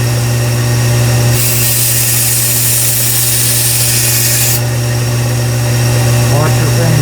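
A Kalamazoo 1x42 belt sander runs with a steady motor hum while a knife is sharpened on the belt, with a bright hissing grind swelling in for a few seconds then fading back to the idling whir.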